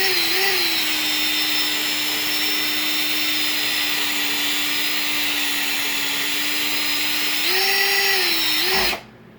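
A power drill stirs sugar into homemade wine, giving a loud, steady motor whine that holds for several seconds, briefly rises in pitch, then cuts off abruptly.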